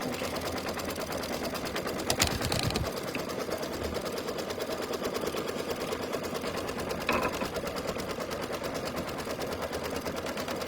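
Embroidery machine stitching an outline on falling-leaves coasters, a fast steady mechanical rattle running throughout, with a couple of brief louder clunks partway through.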